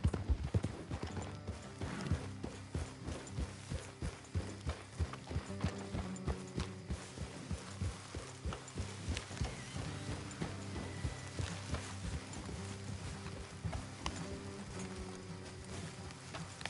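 Steady clip-clop of several horses' hooves walking at an even pace in Red Dead Redemption 2, with faint rain-like patter and ambient noise underneath.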